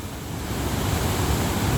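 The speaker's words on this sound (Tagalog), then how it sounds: "lakas ng tubig dito. Daming tubig." Strong floodwater rushes past during flooding in Korea, a loud continuous roar of surging water that swells slightly partway through.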